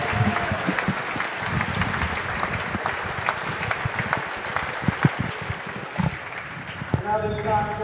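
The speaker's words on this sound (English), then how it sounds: "Let's give a round of applause for Mr. Chris Allen." Crowd in a high school gym at a boys basketball game applauding during pregame introductions, sustained clapping with some scattered cheers and thumps, and an announcer's voice coming in near the end.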